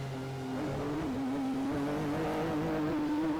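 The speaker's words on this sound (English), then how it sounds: "Gearbox once again for Alain Prost" A Formula One car at the 1990 Italian Grand Prix slows with a gearbox failure, its engine giving a steady droning note whose pitch wavers and rises slightly, heard alone at moderate distance.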